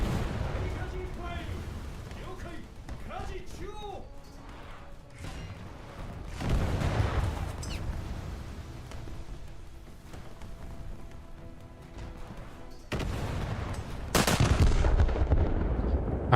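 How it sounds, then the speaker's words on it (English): Battleship guns fire a salvo in a naval combat game: deep booming blasts separated by rumbling gaps, with heavy bursts later on, under someone talking. "That's a good first salvo."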